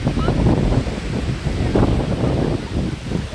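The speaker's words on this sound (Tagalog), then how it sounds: "Medyo maalon lang ngayon tsaka mahangin" Loud wind buffets the microphone over a constant rushing wash of rough sea waves at a beach in Boracay, continuous and close with no clear pauses.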